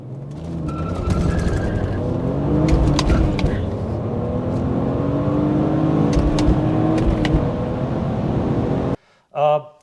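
A BMW E46 with a limited-slip differential accelerates hard from standstill to 100 km/h. The engine note stays loud and steady for about nine seconds, with rising tones under faint talk, then cuts off abruptly.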